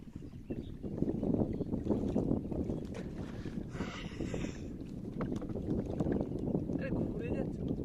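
A small boat being rowed on water for the first time, with a steady wash of water and wind noise and occasional splashes; people talk throughout.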